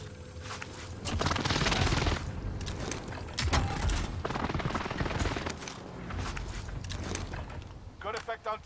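In the video game Rebirth, an airstrike lands amid heavy gunfire: loud, dense bursts of explosions and rapid shots roll on for several seconds, with brief mechanical clicks toward the end and muffled voices mixed in.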